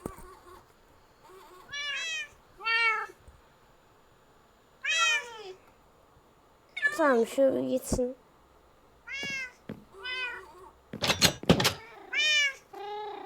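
Several cats meow repeatedly in short bursts, some higher and drawn out, with a brief spoken remark and a few clicks between them.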